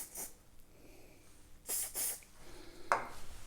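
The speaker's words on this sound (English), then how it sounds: "spray a little bit of activator" Short hissing bursts of CA glue activator sprayed from a distance onto a lockpick handle, two close quick spritzes, then a fainter puff, quiet and alone.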